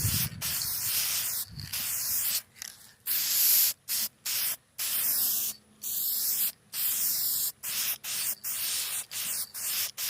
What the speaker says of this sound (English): Let's get our little can of gloss here and go for our first coat.